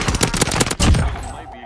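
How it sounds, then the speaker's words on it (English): Rapid automatic gunfire from a Cooper Carbine in Call of Duty Warzone rattles loudly in a tight burst of shots, followed by a heavier boom that trails off. "I'm shooting you."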